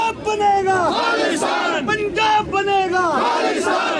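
Crowd at a Kashmiri rally chanting slogans, including pro-Khalistan calls, loud massed voices rising and falling in repeated shouted phrases throughout.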